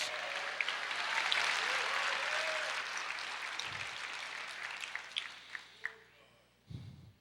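Church congregation applauding together during a sermon, a full wash of clapping that gradually thins and fades into scattered claps, with voices audible beneath it.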